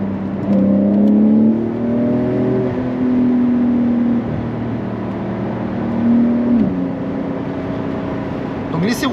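Porsche 911 (922) Carrera S driving on a wet road, a steady engine drone with shifting pitch and tyre hiss heard from inside the cabin while someone talks over it.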